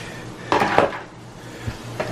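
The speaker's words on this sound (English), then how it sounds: "Let's put the butter on for that one. Just drop the butter in that bad boy." Butter drops into a hot pan on a stove during steak and lobster cooking, making a couple of sharp metallic pan knocks followed by a faint brief sizzle, close by with no speech.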